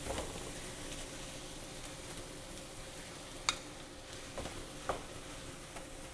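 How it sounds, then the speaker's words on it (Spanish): Ground beef browning in a pan with ají pepper and onion for a Dominican plantain pastelón, a steady low sizzle with a few soft clicks of stirring. "vamos a poner nuestra carne molida para que termine incorporándose y dorándose junto con la carne"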